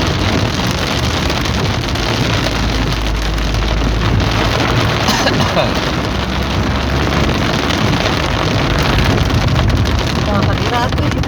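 Heavy rain pours down on a car during a drive on the Cileunyi–Garut route via Cijapati, a dense steady hiss with road and wind rumble throughout, loud and unbroken, with a voice speaking over it.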